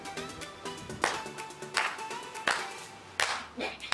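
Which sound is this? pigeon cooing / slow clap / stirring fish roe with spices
slow clap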